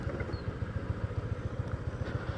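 A Honda Click V4 Smart Edition 125 scooter idling close by, its small engine putting out a fast, even low-pitched putter with no voices over it.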